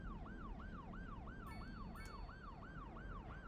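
An ambulance siren in the city-building game Cities Skylines 2 wails in a steady, rapid rising-and-falling cycle, loud and continuous, with a couple of brief high electronic tones layered over it.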